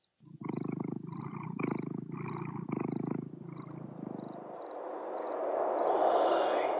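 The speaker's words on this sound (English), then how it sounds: "AAA voice acting from the cat." A cat in the video game Konstandin purrs in a loud, close, rhythmic series of rumbling breaths, about six pulses, then fades into a rising airy hiss of wind.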